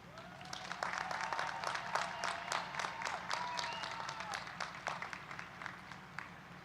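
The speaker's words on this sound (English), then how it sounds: "Please join me in saluting these hardworking graduates with another round of applause" Audience applause for graduates at a university commencement, a mix of distinct individual claps and broader clapping that carries on steadily at moderate-to-faint level in a large hall.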